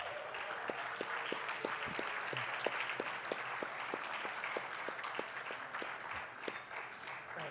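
An audience at a prize award ceremony applauds, a steady, even wash of many hands clapping for the whole stretch, with no voices over it.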